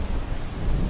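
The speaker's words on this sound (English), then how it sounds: "the thunder rumbling in the distance" Deep rumbling thunder rolls under steady rain falling on surfaces, a dense, loud wash of storm noise with no talking.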